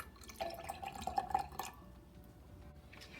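Strawberry lemon moscato punch is poured into a glass, giving a quiet close trickle with small drips and clinks for about a second and a half, then fading to a soft hiss with no talking.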